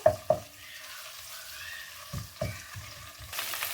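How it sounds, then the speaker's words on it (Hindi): Garlic ginger paste fries lightly in a pan for white chicken karahi, giving a soft sizzle broken by a few sharp clinks and stirring scrapes, with no talking. "2 चम्मच यहाँ पर लिया है मैंने लहसुन अदरक का पेस्ट, ये इसमें जाएगा। इसे हम हल्का सा फ्राई करेंगे।"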